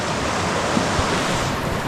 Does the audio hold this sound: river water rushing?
yes